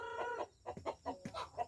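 Several short bursts of hen clucking, close and fairly loud, in choppy irregular phrases with no talking.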